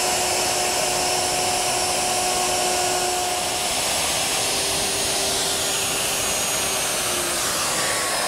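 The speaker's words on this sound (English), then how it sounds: "I've set up my router with a 1/4 inch round nose bit and set the fence so that I'm right at the center of the bit 1 inch away" A router fitted with a 1/4 inch round nose bit runs along wooden edges, giving a loud, steady whine that holds unbroken for several seconds with no speech.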